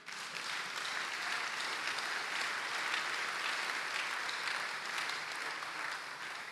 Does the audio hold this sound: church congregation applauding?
yes